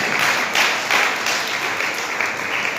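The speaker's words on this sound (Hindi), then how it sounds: "ताली बजा के यीशु मसीह को महिमा दें" A church congregation claps together in worship, a brief, steady stretch of moderate applause with slightly pulsing rhythm.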